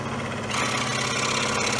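A drum sander whirs steadily while a wooden koala toy rattle is shaped against it, the motor tone thickening slightly partway through as the piece presses in, loud and close with no voices.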